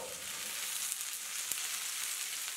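Potatoes cut into large pieces and boiled chickpeas sizzle in a pan with a steady, dense frying hiss and occasional soft stirring clicks, close and continuous with no talk.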